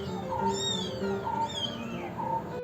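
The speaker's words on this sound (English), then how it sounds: "I don't know if you can hear the kittens" Kittens meow repeatedly in short high-pitched calls over a steady low background hum, with several overlapping mews close by throughout.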